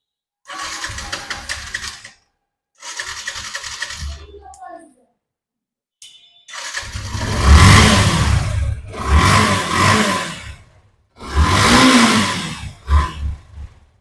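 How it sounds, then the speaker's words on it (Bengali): A Yamaha FZS motorcycle engine revs in repeated bursts, rising and dropping with short pauses between, loud and close, with no talking. "ইঞ্জিন সাউন্ড শোনে আপনাদের"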